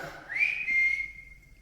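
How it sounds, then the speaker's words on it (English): A single clear whistle, rising quickly and then held steady before fading out, heard alone against quiet surroundings. "You not heard that whistle behind yours?"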